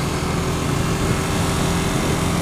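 A 2014 KTM 1290 Super Duke motorcycle engine drones steadily while riding at about 45 mph, a loud, continuous hum mixed with wind rush and no talking.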